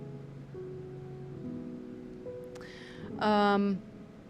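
A single loud, drawn-out meow rises near the end over faint background hum, preceded by a few soft tonal sounds.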